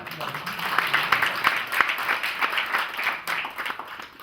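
Audience applause at a community gathering, a moderate patter of many hands clapping unevenly and continuously, close and lively, with some voices mixed in.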